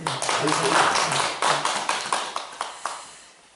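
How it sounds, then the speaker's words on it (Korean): Applause from a lecture audience at a Buddhist sutra talk, with a thinner scatter of claps that tapers into a few distinct sharp hand claps before fading, heard fairly close. "오늘 박수 한번 주십시오."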